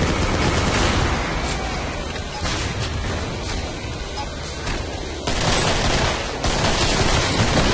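Sustained weapon fire in the co-op shooter Killing Floor, a loud, continuous wash of shots and blasts with no real break, surging in intensity partway through.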